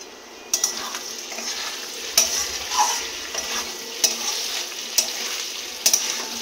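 Paneer and potato curry cooks in a pan with a steady frying sizzle, broken by a few sharp clinks of a spoon stirring against the pan.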